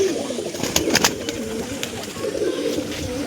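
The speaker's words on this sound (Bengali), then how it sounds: "এটা হাজারওয়ালা কালো চোখের পায়রা আছে" Black-eyed pigeons at a pigeon sale, several birds cooing in low rolling calls close by, with a few sharper chirps and clicks, amid a steady background hum and faint voices.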